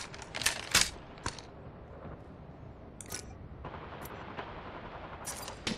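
Apex Legends gameplay on Nintendo Switch with sniper rifles carries faint bursts of in-game gunfire, a few sharp shots and quick rattling volleys over a low, steady background.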